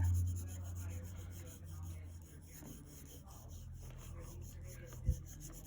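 A pencil shades a sphere drawing on paper with soft, continuous rubbing and rasping strokes. The strokes are close and faint, and a single sharp tap comes near the end.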